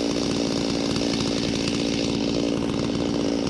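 Chainsaw running steadily at high revs while making the top cut on a tree being felled, a loud continuous buzzing drone up close with no talking.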